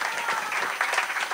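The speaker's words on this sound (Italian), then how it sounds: "Un applauso di nuovo a Marco!" A brief burst of audience applause for Marco at a talent show, a steady crowd clapping heard on its own.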